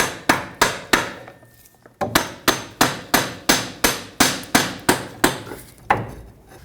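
Sharp, evenly spaced hammer strikes on a stuck metal part in a front driveshaft cup of a Ford Ranger, about a dozen ringing taps close by, with a brief pause early on before the rhythm resumes.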